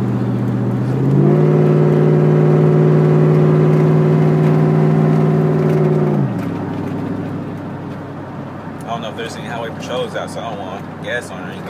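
A Chevrolet Silverado pickup with a 4.8 V8 engine accelerates from 65 to 125 mph, revving in a loud, steady drone with strong harmonics for several seconds, then dropping back to a lower rumble as road and cabin noise continue.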